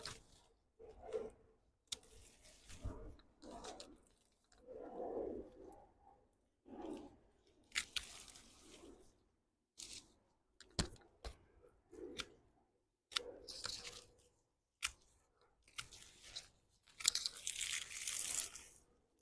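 Shears cut long privet stems, three to four feet in length, for Christmas decorations: sharp, irregular snips and woody crunches close by, separated by quiet pauses, with no voices.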